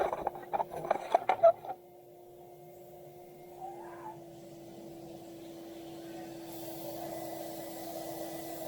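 Hoover vacuum cleaner straining during a Honda ATC 70 restoration: a few sharp knocks and clatters, then a steady, fairly quiet motor drone with a fixed tonal whine that holds to the end.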